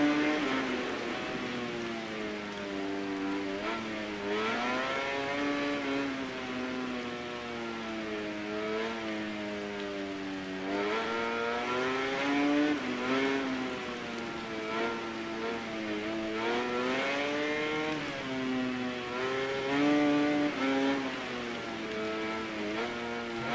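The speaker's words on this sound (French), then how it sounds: "C'est extrêmement difficile de conduire une moto sous la pluie." Game engines from MotoGP 19 motorcycle racing in the rain wail and rise and fall continuously as bikes accelerate and shift, a steady high whine riding over a hiss of rain spray, moderately loud and without talk.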